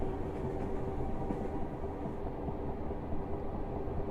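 A Class 325 electric train in the Train Simulator Classic game hums and rumbles steadily along the track, with continuous wheel and motor noise at an even level and no voices.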